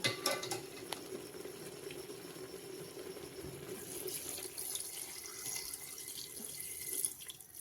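Hot water pours and splashes into a pressure cooker of mutton curry, growing brighter and fuller partway through, with a few faint clinks of cookware.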